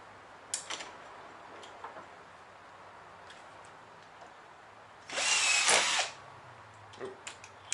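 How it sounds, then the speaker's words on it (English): Power drill boring holes for a kayak steering setup, a single whirring burst of about a second amid quiet workshop ticks and handling noises. "Well, I've got a bigger drill bit. I can't drill these holes out."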